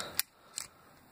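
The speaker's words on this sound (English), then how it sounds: "you fold up this tab here, and then it unfolds" A German paratrooper knife snaps open as its blade unfolds, giving two sharp metallic clicks about half a second apart, close and crisp in a quiet room.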